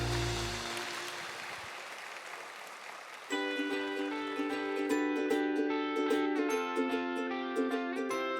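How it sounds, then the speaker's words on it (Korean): Applause from a church congregation at a Sunday worship service at Good Shepherd Church fills the first few seconds as a dense, steady wash, then fades while sustained keyboard or organ chords take over. "다시 한번 크게 박수해 주시기 바랍니다."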